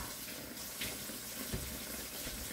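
Hot water runs steadily from a kitchen tap in a continuous, close splashing stream that fills a container while cooking jackfruit in coconut cream with pork belly.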